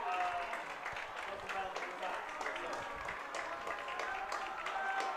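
Crowd noise rises steadily at a high school football game between Troy and Fountain Valley after offsetting holding and personal foul penalties, a broad continuous roar with scattered applause and voices lasting throughout.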